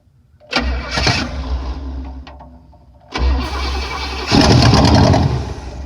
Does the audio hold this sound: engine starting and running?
yes